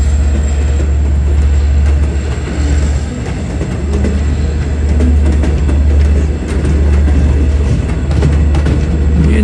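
A Long Island Rail Road commuter train to Oyster Bay, led by a D30AC locomotive with a C3 cab car in a three-car set, passes close and loud with a heavy low engine drone, rattling wheels and steady clatter throughout.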